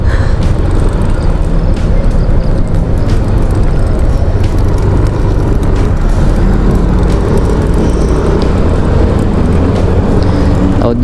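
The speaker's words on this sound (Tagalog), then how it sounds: "Gumugusto yung bus sa likod ko." A bus engine idles and rumbles close behind a motorcycle rider in heavy traffic, a loud, steady low drone with dense traffic noise throughout.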